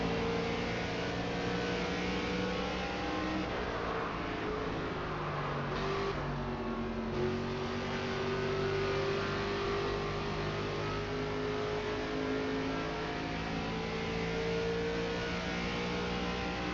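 An ARCA stock car racing at Phoenix roars with a steady, close engine drone and a slight rise in revs, continuous for the whole stretch with no voices.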